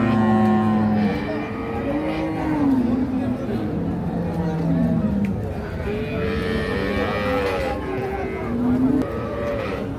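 A cross Jersey cow moos repeatedly, loud and near, at a busy cattle market, with several overlapping low calls and faint crowd murmur beneath.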